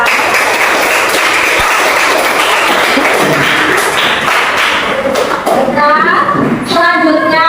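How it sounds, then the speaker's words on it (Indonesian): A classroom group of teachers or students claps for a presenting team during an academic coaching session, loud close clapping with some taps and thuds, ending as voices start talking over it. "Tepuk tangan untuk kelompok visual."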